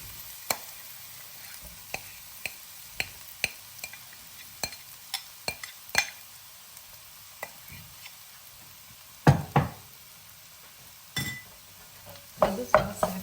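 A spoon stirs boiled potatoes in a pan, making sporadic sharp clicks and scrapes against the metal, spaced irregularly with a few louder clusters of scraping, set against a quiet kitchen background.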